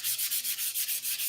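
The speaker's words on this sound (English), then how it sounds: "So that's how fast that sanded up." Sanding clear dope on a model aircraft, a fast rhythmic back-and-forth rasp of about eight even strokes, close and loud with no talking.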